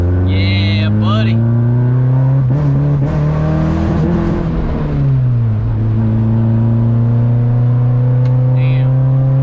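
Honda Civic engine revving hard and loud, pitch climbing and dipping through the rev range without reaching VTEC, close by, with excited people shouting and talking over it.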